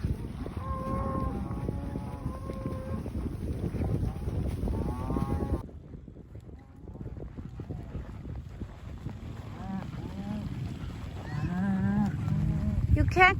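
Cattle on a ranch being moved toward a gate give several drawn-out moos, some close and loud and others farther off, over steady wind and microphone rumble with a brief lull in the middle.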